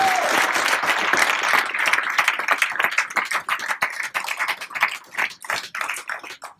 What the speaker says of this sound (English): Give Donna Frost a big round of applause.